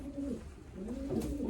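Pigeons cooing in a nest, a soft low rolling coo repeated in close succession, fairly near and steady with no talk.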